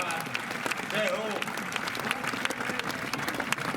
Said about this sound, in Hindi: तालियों की गूंज से हिला दो ऐसा आसमान